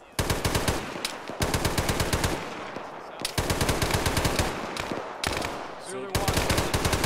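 Sustained automatic gunfire in the military shooter game Arma during a night firefight, long loud rapid bursts separated by brief pauses, close and dominant throughout with no talk.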